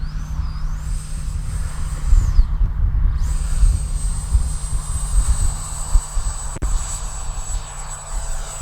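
An Arrows Marlin 64mm electric ducted-fan RC airplane motor runs with a steady, close, loud whine over a low rumble. Its pitch dips and rises early on, then holds a sustained high tone, with a brief sharp click near the end.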